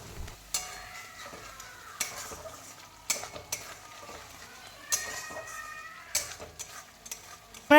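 Spice paste with salt, turmeric and tomato fries in a pan, a quiet sizzle punctuated by repeated sharp clinks and scrapes of a spoon stirring roughly once a second, up close.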